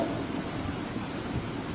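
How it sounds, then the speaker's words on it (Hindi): Heavy rain pours down steadily at an outdoor Independence Day gathering, a dense, even hiss and rumble with no voices. "लगातार बारिश तेज होती जा रही है"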